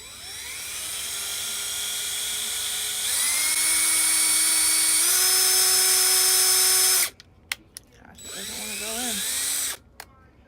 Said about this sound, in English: So I am first going to do some pre-drilled holes because this 2x2 can and will